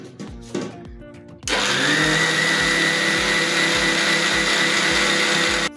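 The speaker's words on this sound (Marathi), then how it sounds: "तर ही आता मी बारीक करून घेणार आहे मैद्याच्या पिठात टाकून मळायला" A kitchen mixer grinder pulses briefly, then runs continuously, loud and close, with a high whirring roar and a rhythmic low thump while grinding semolina (rava) fine.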